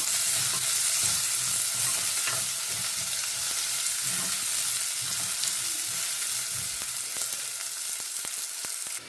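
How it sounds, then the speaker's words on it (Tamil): Small shallots with fennel seeds sauté in hot oil, a strong, steady crackling sizzle heard close, with light stirring scrapes that thin out toward the end and no speech. "இப்போ நாங்கள் கட் பண்ணி வச்சுருக்கிற இந்த சின்ன வெங்காயத்தை இதில் போட்டுக்கொள்ளுவோம் போட்டுட்டு இது நல்லா வதங்கட்டுக்கும்"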